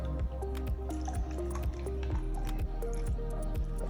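Milk from an Egyptian brand is poured over ice cubes in a glass for a homemade iced coffee, with soft splashing and dripping that crackles against the ice, heard up close beneath a steady, repeating musical background.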